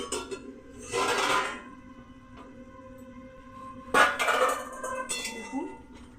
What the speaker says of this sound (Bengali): থালাটা খুলছি।